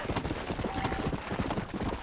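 Steady clip-clop of a stallion's hooves in Red Dead Redemption, close and continuous, a dense quick rhythm of hoofbeats filling the whole moment.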